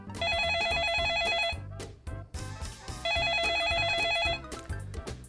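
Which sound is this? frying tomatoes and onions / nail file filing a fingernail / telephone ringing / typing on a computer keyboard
telephone ringing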